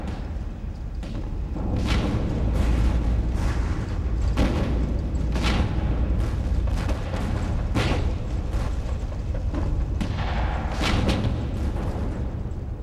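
Booming World War II artillery fire from German 88 mm guns on a northern European battlefield, with repeated heavy thuds at irregular intervals over a constant loud rumble.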